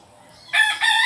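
A fighting rooster crows once nearby, a loud, bright call that starts abruptly, dips briefly, and then carries on to the end over faint background noise.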